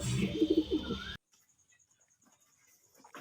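Kaldum pigeons coo softly for about a second amid background noise, then the sound drops to near silence with faint rustles.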